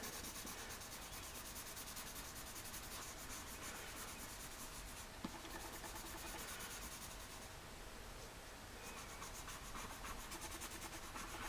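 A pencil shades paper with light pressure, building up tone as a soft, continuous scratchy rub that keeps going evenly, with slight back-and-forth variation throughout.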